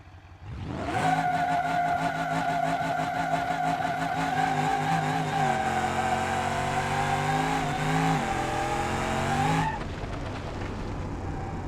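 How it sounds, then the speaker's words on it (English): A Moonhawk car in BeamNG.drive does a burnout: the engine roars at sustained high revs with squealing tires for about nine seconds, the pitch wavering midway before it cuts off, loud and close. "That was not really a burnout for distance."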